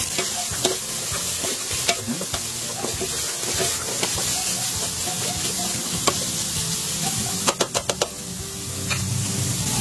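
A spoon stirs carrots in a pot for chicken sopas, scraping and knocking rhythmically over a constant sizzle and hiss, with a quick run of sharp taps on the pot rim near the end.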